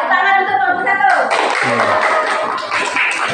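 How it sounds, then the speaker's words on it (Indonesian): Classroom students clap for a group after its presentation, a short burst of scattered clapping following a teacher's voice, with light chatter and a chuckle mixed in. "tepuk tangan untuk kelompok 1."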